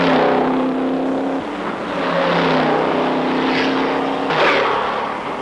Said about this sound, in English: The first 30 cars are bunched and battling for early positions.